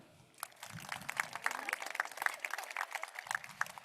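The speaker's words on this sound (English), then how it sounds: "Can we give one final applause for all of our Principal Cup awardees?" A high school graduation audience claps for award winners in a large hall, a moderately loud, scattered patter of many hands that starts abruptly and keeps going for several seconds, with some faint voices underneath.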